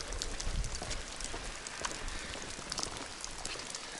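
Rain falling around old stone ruins in a hillside village on Kefalonia, a steady wet patter with scattered sharper drops and occasional gusty low rumble, no voices.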